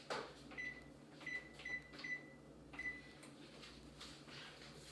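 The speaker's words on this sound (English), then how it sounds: "I'm going to start my oven to preheat" A kitchen oven is switched on to preheat, with about five short, faint electronic beeps from the control panel over a low background hum.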